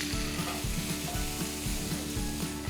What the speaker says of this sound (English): This is gonna be a nice quick stir fry, so garlic goes in, oil is nice and hot